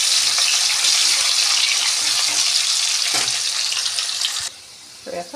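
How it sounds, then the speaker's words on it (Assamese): Potato pieces fry in hot oil over a high gas flame, giving a steady loud sizzle that cuts off abruptly near the end, followed by a brief voice. "মই সদায় মাংস বনালে আলুখিনি আগতে এনেকৈ ফ্ৰাই কৰি ল'ম।"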